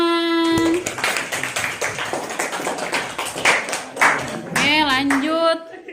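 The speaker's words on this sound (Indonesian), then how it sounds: "Tepuk tangan, tepuk tangan." Classroom audience clapping hands in a university teacher-training session, a sustained patter of many claps, with a voice talking over it toward the end.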